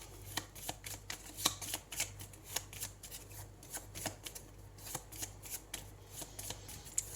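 Tarot cards being shuffled in steady, crisp riffling flicks, close and fairly quiet, continuing with a soft hum underneath and no talking.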